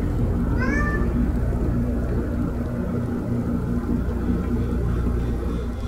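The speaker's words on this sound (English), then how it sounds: "That's my cat, my little baby kitty cat at the door." A domestic cat gives a short rising meow at a door in a game, heard once near the start over a loud, constant low rumbling background.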